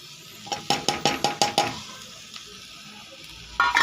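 Fried vegetables are added to roasting rice and lentils in a pan: about seven sharp, rhythmic scraping stirs over a low sizzle, then a pause and one more burst of stirring.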